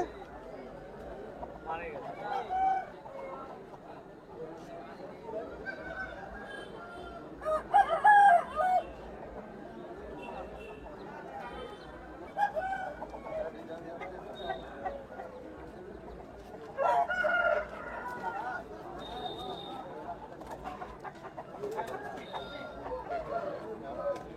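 Roosters crow repeatedly at a busy country chicken market, several loud cock-a-doodle-doo calls rising above a constant murmur of bargaining voices and clucking fowl.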